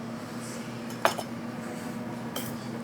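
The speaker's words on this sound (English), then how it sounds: "I'm going to cut some asparagus up here" In a kitchen, a knife cuts asparagus on a board, producing a few sharp, close clicks and taps, one louder near the middle and another toward the end, over a quiet steady hum, with no talk.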